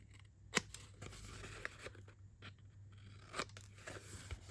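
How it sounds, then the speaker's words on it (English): Scissors snip the edges of a paper lantern card, several sharp close clicks and crunchy cuts spaced irregularly over a quiet background. "we're just going to take a little bit of the edges off"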